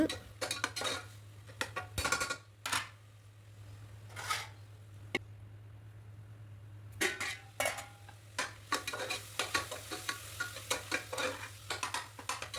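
Onion-tomato masala paste being sautéed in a pan, with intermittent spoon scrapes and clinks against the pan over a faint sizzle, in bursts with quiet gaps between them.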